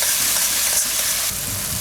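Tomato gravy with salt cooking in a pan, a loud, close, continuous sizzling hiss with a slight drop in intensity partway through and no voices.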